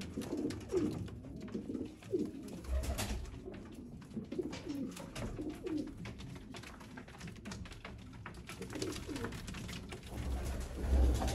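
Sialkoti green-pearl pigeons coo in a repeated, low rolling rhythm, calls overlapping close by at moderate volume, with occasional faint taps in the background.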